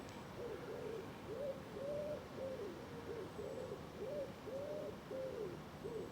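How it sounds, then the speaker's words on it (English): A pigeon in quiet woodland gives a steady, rhythmic series of soft hooting coos that repeat several times, moderately near, against faint background hiss. "Disturbed only by that pigeon"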